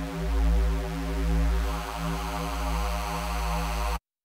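Abrasive metallic FM bass patch in Serum, oscillator A frequency-modulated from B, droning as one steady buzzy tone with a slow wobble in the low end, loud and alone before cutting off abruptly.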